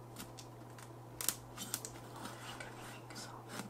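A knife slices open the packaging of a Huawei P30 Lite smartphone box, with a few scratchy cutting strokes and small plastic clicks, close and quiet over a steady low hum.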